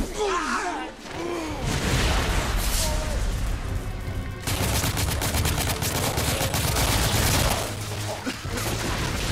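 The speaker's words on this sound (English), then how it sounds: "That's a thermite gun!" Gunfire from a thermite gun in the video game The Order 1886, a dense rapid fusillade of shots and crackling impacts that runs loud and continuous, with a voice briefly speaking early on.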